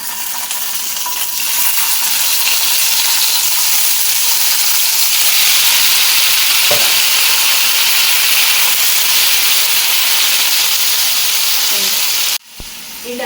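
Chopped tomatoes drop into hot oil on a low flame and fry with a loud, steady, close sizzle and hiss that fills the whole stretch, with occasional stirring clinks, then cuts off briefly near the end.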